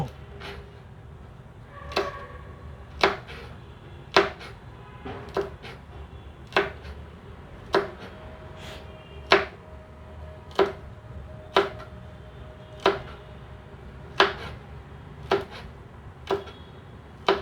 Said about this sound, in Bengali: ঠিক এভাবে ছোট ছোট করে কেটে নিব।